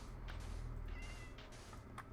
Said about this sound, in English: Why did I hear a meow?